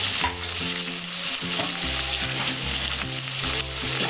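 Ground spices with salt and turmeric sizzle steadily in a hot pan for a prawn and pointed gourd curry, a continuous frying hiss close by, with no voices over it.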